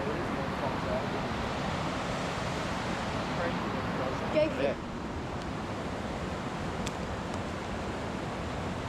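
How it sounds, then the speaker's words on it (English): A fast-flowing river tumbling among big boulders roars loud and steady throughout, with brief voices exchanging a couple of words midway. "it's noisy from the water because the river is flowing quite fast"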